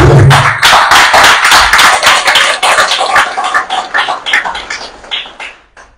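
An audience applauds and cheers the opposition's single presidential candidate at a political designation event, with loud, dense clapping and shouts that start strong and gradually thin out into scattered claps.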